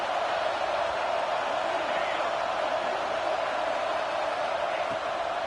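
Stadium crowd at an Auburn college football game in NCAA 26, a dense continuous roar of many voices at steady loudness, with a commentator talking over it.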